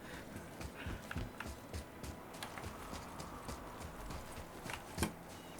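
Donkey hooves clip-clop steadily in God of War (2018), a close, even walking rhythm of hollow knocks over a low ambient game background.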